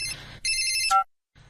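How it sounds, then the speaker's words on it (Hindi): A mobile phone ringtone plays bright, loud electronic tones in two phrases, then cuts off abruptly to near silence. "मोबाइल का घंटी बज रहा है।"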